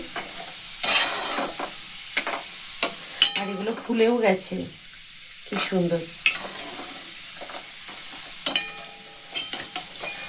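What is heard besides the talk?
Sita Bhog-style sweets frying in oil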